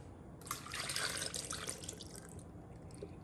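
Milk poured from a cup into a blender jar for a smoothie, a short splashing, trickling pour that swells and then tapers off, fairly quiet and close, with no talking.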